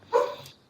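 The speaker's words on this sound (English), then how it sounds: "Sorry if you can hear my dog barking." A single short dog bark rings out fairly close, loud and abrupt, then trails off quickly in a quiet room with no speech over it.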